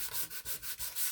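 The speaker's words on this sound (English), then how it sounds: "giving it a bit of sanding so that it," Sandpaper rubbed by hand across a glossy collage surface to scuff it before gluing, giving close, steady rasping strokes in a quick back-and-forth rhythm, five or six passes with no talking.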